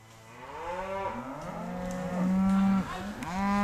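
Cattle on a September drive along river flats moo repeatedly, several long, deep, overlapping lows from nearby animals, loud and without any talk.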